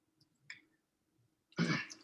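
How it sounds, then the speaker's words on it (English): During an online meeting, a single close, loud cough or throat-clearing bursts out near the end, after a few faint scattered noises over a quiet, hum-filled line. "The only time you hear the coughing is when he's speaking."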